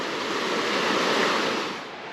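A creek flowing along a forested trail branch at a crossing, a steady broadband rushing of water, close and continuous, swelling slightly then easing, with no voices.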